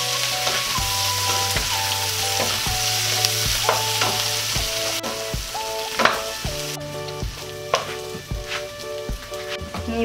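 Garlic shrimp sizzle loudly in a hot frying pan, a steady close hiss under repeated clinks and scrapes of a utensil stirring against the pan.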